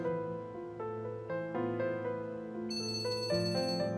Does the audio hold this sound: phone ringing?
yes